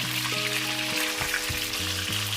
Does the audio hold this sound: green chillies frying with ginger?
yes